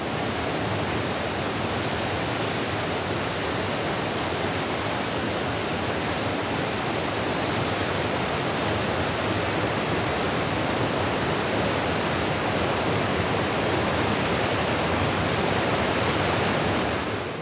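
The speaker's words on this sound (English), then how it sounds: "A short drive from Carnarvon, and Piper discovered a waterfall even more spectacular than Gordale Scar" A waterfall in Wales roars as a dense, constant rush of falling water, loud and unbroken throughout with no voices.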